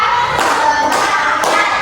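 A class of students claps together in a rhythm game, with a few sharp group claps standing out loudly above a busy room background.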